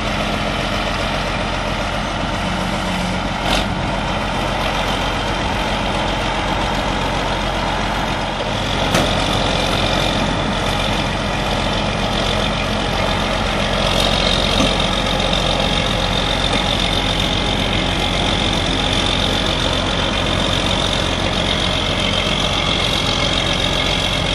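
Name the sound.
Isuzu vehicle engine running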